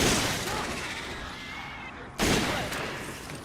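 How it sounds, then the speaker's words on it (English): A PSG sniper rifle fires in Resident Evil 5 on a ship deck: a sharp, loud crack breaks in partway through, over a dense, steady bed of game noise and rumble. "So quickly shoot that guy up there, then shoot these two guys down here"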